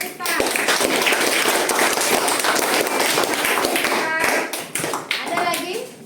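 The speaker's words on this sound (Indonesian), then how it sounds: "tepuk tangan untuk kita" Students in a classroom clap their hands together in a fast, sharp, fairly loud burst of claps that carries on for several seconds. A voice and some chatter can be heard mixed in.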